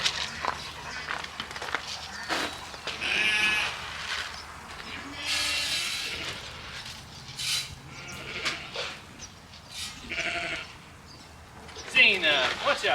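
Sheep bleating on a farm as they are herded toward their pen, several calls rising over footsteps and rustling, while a person talks to the animals throughout.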